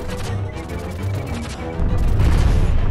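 Rapid gunfire from a turret in the pixel-art game Owlboy, a steady stream of shots over game music that grows louder and denser toward the end.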